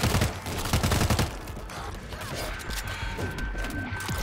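A big gun fires in World War Z against zombie hordes, a loud burst of rapid shots up front that gives way to continued battle noise and chatter.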